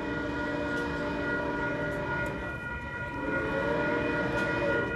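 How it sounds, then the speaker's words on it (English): A train rolls past along the ocean shore in San Clemente, California, with a sustained tonal horn-like drone over a steady rumble, fairly faint and continuous for several seconds. "but now the train's coming"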